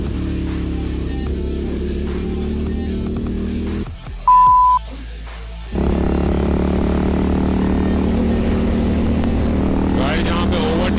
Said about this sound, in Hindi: as it is sports tourer bike है